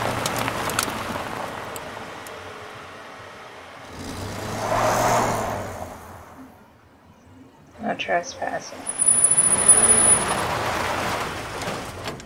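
Chloe's car in the video game Life is Strange gives a whirring, revving engine drone that swells and fades, with a higher surge near the end, heard mostly beneath people talking.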